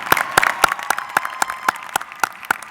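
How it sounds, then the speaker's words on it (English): Clapping at a university commencement ceremony in a steady, evenly spaced rhythm, sharp distinct claps ringing out close and loud without any talking. "One more big round of applause"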